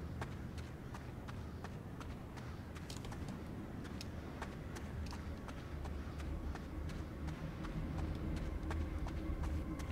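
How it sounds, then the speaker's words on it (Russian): Footsteps of someone running nearby in the horror video game Pineview Drive make a quick, steady patter of close thuds that keeps going without pause over a low ambient hum. "Вы тоже слышите, да, как кто-то вот бегает прямо возле меня"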